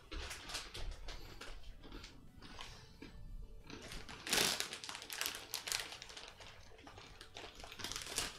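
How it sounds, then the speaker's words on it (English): Fingers tap steadily on a keyboard in quiet, irregular bursts of clicks close by, with a brief louder clatter midway and almost no talking. "Still typing."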